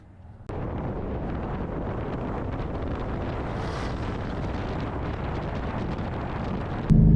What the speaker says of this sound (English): So driving a twin turbo Mustang, it's not quite as easy as you would think it would be.